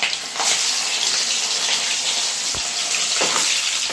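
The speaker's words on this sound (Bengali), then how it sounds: "এক এক করে মাছগুলো তেলের মধ্যে ছেড়ে দেবো" Rui fish pieces drop into hot oil, giving a loud, continuous hissing sizzle with a few sharper spatter pops throughout.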